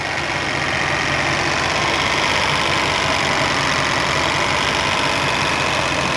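A fuel-injected Ford 302 V8 in a 1983 Ford LTD Country Squire wagon idles steadily with a deep, even rumble and a slight lope, close up and continuous throughout.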